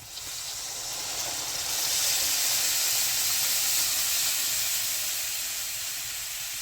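Water poured into a hot pan of peanuts with turmeric and chili, a loud rushing hiss of steam that swells and holds steadily, close up, with no voices.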